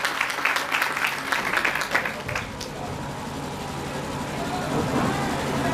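Audience applause at a skill development training event in Uttarakhand, a burst of clapping for the first two and a half seconds that fades into a low murmur of room noise.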